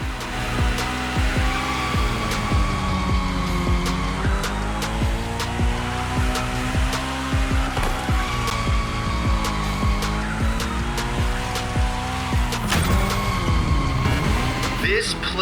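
A car drifting in The Crew Motorfest, its engine droning steadily with a strong continuous hum while tires squeal intermittently through slides, loud and close throughout.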